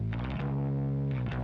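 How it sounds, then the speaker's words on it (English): Bass through a bass amp with overdrive and EQ, one fat, sustained, loud note with brief plucked attacks at the start and near the end. "Then I throw on these effects, which is bass amp, overdrive, and a little bit of EQ."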